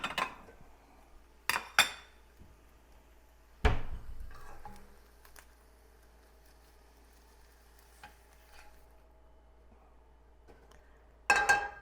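A plate is taken out in a quiet kitchen, giving a few sharp, scattered clinks of dishes knocking together, with long silent gaps between them.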